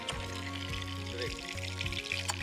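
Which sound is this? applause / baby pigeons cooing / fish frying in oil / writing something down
fish frying in oil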